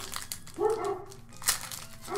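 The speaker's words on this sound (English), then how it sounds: "My dog is barking." A dog barks in the background of a quiet room, two or three short yips spaced about a second apart, mixed with a little crinkling of card packaging.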